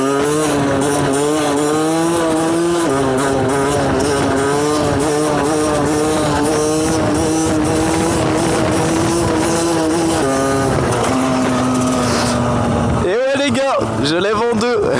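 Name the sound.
motorcycle engine revving while doing a wheelie in second gear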